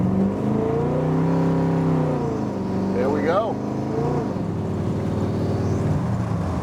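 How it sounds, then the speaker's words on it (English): A 1957 Chevrolet Handyman with a 283 V8 pulls through its gears, the engine's steady drone rising and shifting in pitch under continuous nearby talk. "We're gonna listen to this thing go through its gears"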